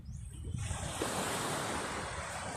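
Ocean surf rushing onto the shore, a wave building into a steady broad roar with some wind noise, fairly close.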